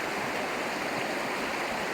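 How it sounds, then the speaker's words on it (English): A creek running through a mountain spot near Dillon Reservoir gives a steady, even rush of flowing water, moderately close and constant, with no voices over it. "it has a superb creek going through here"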